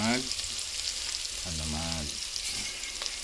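Garlic sizzling in a hot pan, a steady close crackle and hiss under a brief spoken phrase.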